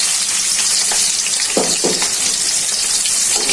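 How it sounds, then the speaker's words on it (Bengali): Chopped onions hit hot spices in a pan and fry with a loud, continuous sizzle, joined partway through by a couple of short scraping stirs. "এখানে মশলাটা ভালো করে ভাজা হয়ে গেছে, পেঁয়াজ কুচিগুলো দিয়ে দিচ্ছি"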